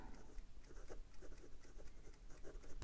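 A fountain pen nib writes on paper, smooth and wet with a hint of feedback: soft continuous scratchy strokes, close up and quiet, with no voices.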